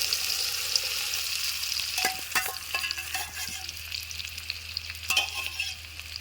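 Bitter gourd pieces frying in oil in a village kitchen, a close steady sizzle broken by several sharp stirring scrapes and clatters against the pan.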